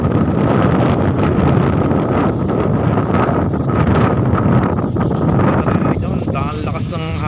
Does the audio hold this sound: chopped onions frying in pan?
no